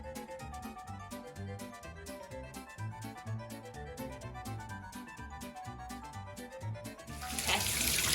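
Tap water runs into a sink while tie-dyed masks and T-shirts are rinsed, a steady splashing flow with sloshing and handling sounds that swell louder at the end.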